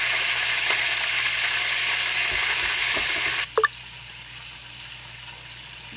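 Garlic and tomatoes sizzle steadily in a hot pan, a loud continuous frying hiss that suddenly drops quieter midway, followed by a couple of sharp clinks and a softer, lingering sizzle.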